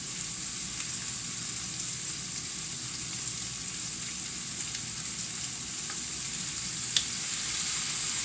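Pre-cut garlic hitting a hot pan sizzles in a steady, even hiss, close and continuous, with one small clink near the end and no voices.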